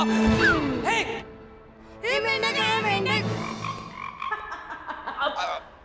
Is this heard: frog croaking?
yes